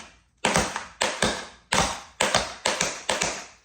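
Crisp tap-shoe strikes on a hard floor land in a quick rhythmic pattern, heel and toe hits falling in closely spaced pairs, about a dozen sharp clicks in all, close and clear with no talk.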